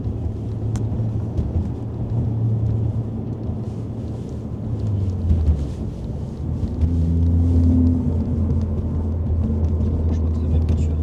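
A Ford Focus ST Mk2 engine rumbles deeply and steadily, its low growl rising in intensity partway through, with faint voices in the background.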